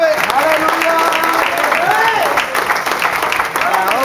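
A church congregation applauds in a steady, dense wash of clapping that fills the whole stretch, with a voice rising over it at times.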